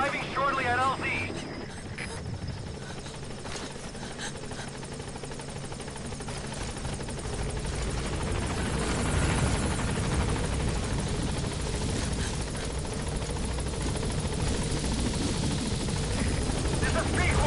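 A helicopter arrives at a landing zone in Metal Gear Solid 5, its rotor thrum swelling louder and closer over the clip while a radio voice speaks briefly near the start.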